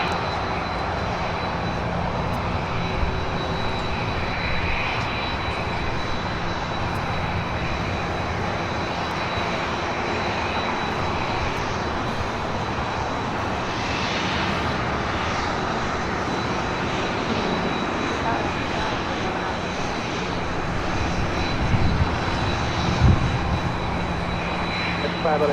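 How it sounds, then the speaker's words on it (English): A United Boeing Dreamliner jet departing from LAX on runway 24 left, bound for Hong Kong: a distant, sustained engine roar swelling slowly, with faint talk and airport background mixed beneath. "United Dreamliner heading to Hong Kong, flight 801, heading to the north side for a departure on 24 left."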